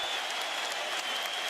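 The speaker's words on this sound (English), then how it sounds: "As P.J. Brown exits the ball game, the crowd gives him a well-deserved ovation." Sustained crowd applause fills an arena at the 2008 NBA Finals between the Celtics and Lakers, an ovation for P.J. Brown as he leaves the game, dense and even throughout.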